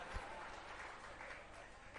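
Audience applause during a Jain monk's sermon, a steady wash of clapping from a gathered crowd heard at a moderate distance without a clear break.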